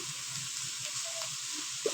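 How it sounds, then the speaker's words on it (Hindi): Minced meat sizzles steadily in a pot over a medium flame for a bitter gourd dish, giving a dense, even crackle with a few faint stirring clinks, close and without any talk. "इसको मीडियम फ्लेम पे इसकी अच्छे से भुनाई कर लेनी है।"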